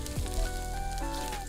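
Ginger and garlic frying in a pan, a steady soft sizzle and crackle running throughout, close and fairly quiet with no talking over it.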